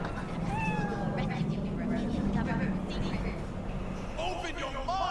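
A cat meows several times while being petted in Cyberpunk 2077, short rising and falling mews at moderate volume over a low game background hum, with voices talking in between.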